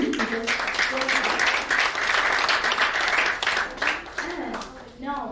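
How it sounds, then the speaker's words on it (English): A conference audience at a women's leadership event in Ras Al Khaimah applauds steadily for several seconds, a dense wash of clapping that swells and fades slightly, with a voice heard briefly beneath it. "Just big round of applause to him."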